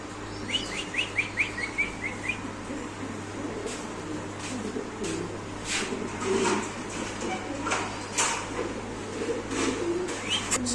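Pigeons coo softly in a quiet space, with a quick series of chirps early on and scattered shuffling and bumps around them.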